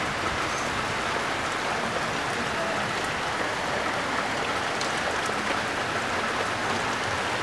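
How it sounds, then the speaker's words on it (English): Heavy rain pours down steadily and evenly as a dense, constant wash of noise that never lets up. No voices or other sounds stand out. "Look how much it's raining."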